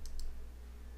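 A computer mouse clicks twice in quick succession, close and crisp, over a steady low hum, with no speech.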